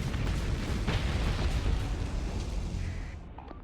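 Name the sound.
torpedoes hitting ships in the video game Starsector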